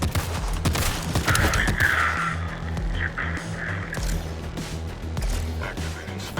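Rapid gunfire in the fast-paced action game Metal Eden, a dense volley of close shots and impacts over a pulsing game soundtrack, with brief synthetic effect tones mixed in.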